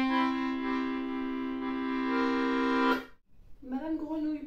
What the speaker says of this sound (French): Monsieur Melodica